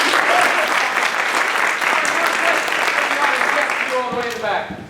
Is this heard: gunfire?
no